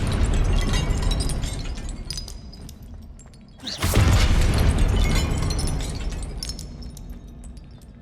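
A Confringo explosive spell is cast in Hogwarts Legacy during a guardian fight, bursting with a sudden loud blast that cuts in mid-clip and then trails off over ongoing game noise and rumble.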